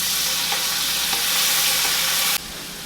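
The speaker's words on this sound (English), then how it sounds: "now you're just going to add in your sauerkraut" Sauerkraut hits a hot pan and sets off a loud, dense, steady sizzle close by. A couple of faint taps sound under it before the hiss drops abruptly to a lower level near the end.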